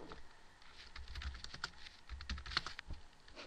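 Quick, uneven clicking of keys on a computer keyboard, close and fairly quiet, with short bursts and pauses as a word is typed; no talking.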